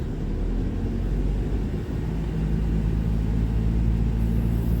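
A manual car in second gear coasting down a slope on engine braking, a steady low engine drone and rumble from inside the cabin with no pedal input, continuous and fairly loud throughout.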